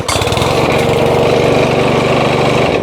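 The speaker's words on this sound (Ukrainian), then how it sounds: "Пробуємо, чи зараз легенько вона заведеться." A Dnipro-M petrol lawn mower engine catching and running, a loud, close, steady putter with a rapid firing pulse that holds for a few seconds before cutting off, with no talking.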